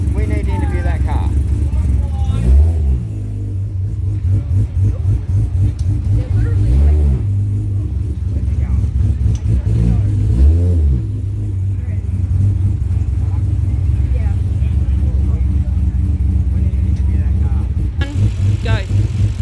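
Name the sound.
modified ethanol car engine, lumpy idle and revving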